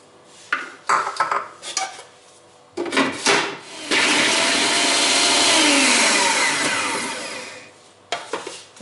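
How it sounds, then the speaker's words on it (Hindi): An electric chopper whirs for several seconds as it blends garlic, ginger and papaya into a paste, a loud steady grinding hum that runs alone. Clinks and knocks of the bowl and utensils come before and after it. "इन तीनों को मैंने तो इकट्ठा चॉप कर लेना"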